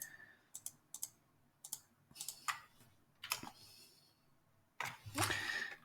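A computer mouse clicks in short, irregular bursts while polygons are selected in Unreal with the control key held. The taps are sharp and close against a quiet room.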